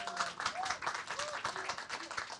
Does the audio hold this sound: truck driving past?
no